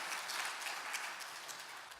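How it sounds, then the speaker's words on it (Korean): A church congregation claps together during a worship service, a steady, fairly soft crackle of many hands that holds level for a couple of seconds, heard from some distance in the hall. "하나님께 영광의 박수 한번 드려봅니다"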